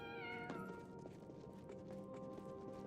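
A cat meows faintly in a video game as a player chases it, with soft footstep-like taps and a steady game-music hum underneath.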